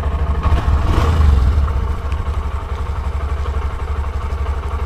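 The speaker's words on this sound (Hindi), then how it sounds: "तो बाइक स्टार्ट कर लेता हूँ एक बारी।" A new Honda Shine 125 motorcycle starts with a brief louder burst, then settles into a steady, even idle thrum close by, with no voices.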